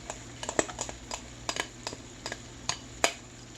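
Beef browning in a pot for beef barley soup, heard as a steady low sizzle broken by repeated scraping stirs and light clinks of a utensil against the pot, fairly quiet and close with no talking.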